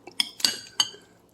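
A utensil clinks against a bowl while mixing a broccoli dish, giving three sharp, close metallic taps in quick succession that each ring briefly and fade.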